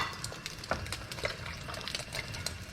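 Eggs nudged aside in a hot pan while frying rice, a steady close sizzle with light scraping and a few soft clinks of a utensil against the pan, no voices.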